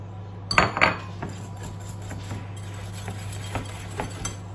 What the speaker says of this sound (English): Whilst that's going, mix your eggs. Okay. Get rid of all the lumps.